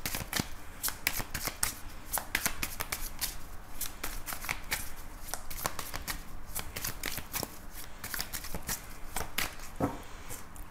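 Tarot cards being shuffled close up, a quick irregular run of crisp riffling flicks and slaps that continues throughout at low volume with no talk.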